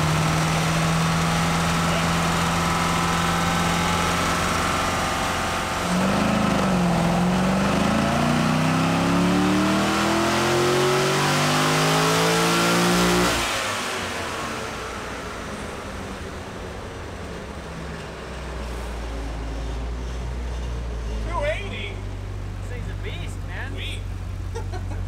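Wrecked Corvette engine on a chassis dyno, roaring loudly as it revs up through rising pitch sweeps, then dropping off to a lower idle and coasting rumble.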